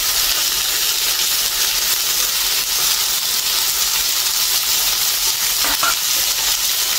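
Garlic sizzles in a frying pan with a steady, close, continuous hiss that stays level throughout, and no voices are heard.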